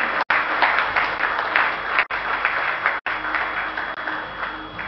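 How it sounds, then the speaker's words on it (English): A round of applause rises from the audience at a green building awards ceremony. The clapping is steady, full and dense, with a few brief cuts. "Can we accompany that with a round of applause"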